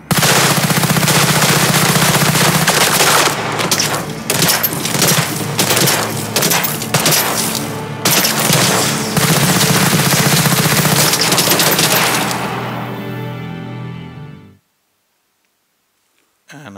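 Loud, dense machine-gun fire and rapid bursts of gunshots ring out through most of a video game combat sequence, with steady sustained volleys that cut off abruptly near the end, leaving silence.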